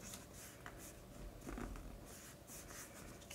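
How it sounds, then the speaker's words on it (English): A bone folder presses and rubs along folded paper on a gift card pocket envelope, making quiet, scratchy swipes that repeat in short strokes, soft and close with no talking. "And I like to flip it and just use my bone folder and get that pressed down."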